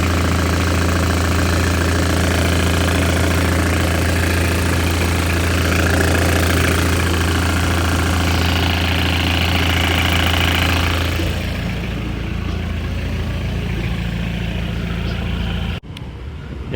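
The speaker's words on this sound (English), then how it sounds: "once the diesel starts, it's running" A Mitsubishi Pajero diesel engine runs close by with a loud, steady idling rumble and knocking vibration, easing slightly toward the end.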